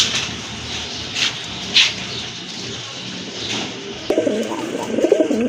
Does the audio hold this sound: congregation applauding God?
no